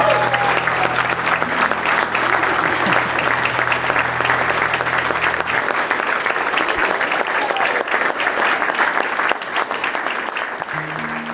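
Wedding guests at Pittodrie House break into dense, sustained applause and cheering, loud and close, with a low hum beneath that fades partway through.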